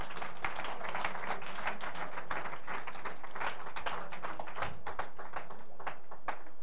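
A church congregation applauds the Lord with dense, sustained clapping from many hands that fills the room evenly throughout.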